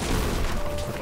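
A vehicle in Fortnite ploughs through objects with a dense, noisy rumble of crashes and thuds, loud and close with no clear separate impacts.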